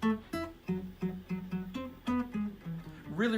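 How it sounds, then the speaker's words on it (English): Very short muted notes played on several different instruments, a string of clipped plucked tones in a steady rhythm, moderately quiet and close, with no talking over them. "Really, really short, muted sounds on a lot of different instruments,"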